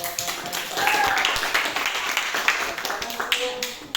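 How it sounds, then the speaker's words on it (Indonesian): Audience clapping after a group presentation in a classroom, a short burst of applause that starts right away, mixed with speech. "beri aplaus untuk"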